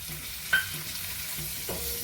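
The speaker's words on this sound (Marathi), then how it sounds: "आता यामध्ये मी हिरवे वाटाणे घालते वाफवलेले" Sprouted legumes sautéed with steamed green peas in a pan, giving a soft steady sizzle with a couple of scraping stirs close by, and no voices.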